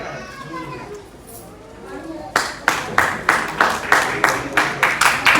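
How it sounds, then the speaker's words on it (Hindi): A crowd claps for an honoured guest: talk fades into steady, rhythmic applause that starts suddenly partway through and stays loud and even. "जोरदार तालियों की गड़गड़ाहट"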